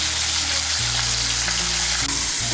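Baby potatoes fry with salt and turmeric in hot oil, a dense and loud sizzle that never lets up, heard up close over a low steady hum from the stove.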